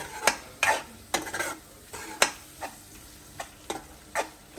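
A spoon stirs a dried mackerel and tomato curry in a pan, giving about ten sharp scraping knocks at an uneven rhythm, close and fairly quiet, with a faint sizzle between strokes and no voices.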